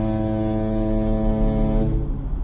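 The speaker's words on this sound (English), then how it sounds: "honk the ship horn by pressing space" A ship horn honked in a FNATI fangame video game: one deep, sustained foghorn-style blast that holds steady for about two seconds, then cuts off abruptly into silence, loud and alone.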